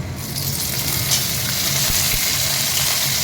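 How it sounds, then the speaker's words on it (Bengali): Mixed vegetables dropped into a hot frying pan for a vegetarian sabji hiss and sizzle loudly and steadily, with faint stirring scrapes and a soft thud partway through. "এবারে সব সবজিগুলো দিয়ে দিচ্ছি।"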